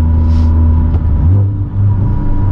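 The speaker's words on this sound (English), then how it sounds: "I just gotta hear that turbo more, dude." A big-turbo Honda Civic Type R making 547 wheel horsepower pulls hard from inside the cabin, its loud, deep engine drone rising in pitch with a brief dip as it shifts, then climbing again.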